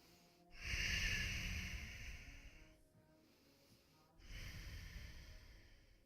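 Two long, deep breaths during a yoga flow, each a drawn-out airy rush through the nose and mouth, heard close and alone in a quiet room.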